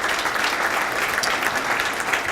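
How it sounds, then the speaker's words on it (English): An audience applauds at a talk on Japan–Armenia relations, a dense, steady burst of many hands clapping with no voices heard. "I wanted to applaud Vicken one more time for his fine work"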